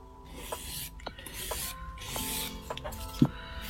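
Nail file rasping along a long acrylic stiletto nail in long strokes, quiet and close, with soft repeated scraping and a few small clicks.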